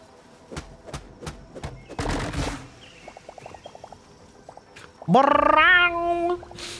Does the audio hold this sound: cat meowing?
yes